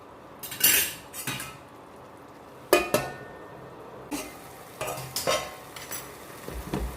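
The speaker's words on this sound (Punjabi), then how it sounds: "ਥੋੜਾ ਜਿਹਾ ਚਿਰ ਅਸੀਂ ਹੋਰ ਪਕਾ ਲਈਏ ਕਿ ਤੜਕਾ ਸਾਡਾ ਚੰਗੀ ਤਰ੍ਹਾਂ ਪੱਕ ਕੇ ਤਿਆਰ ਹੋ ਜਾਵੇ" Tempering (tadka) for a raw potato sabzi is stirred in a pan, with several sharp bursts of metal spoon scraping and clanking against the pan, spaced irregularly with quiet gaps between.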